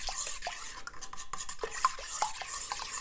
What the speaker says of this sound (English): I just kind of like to give them just a cursory stir.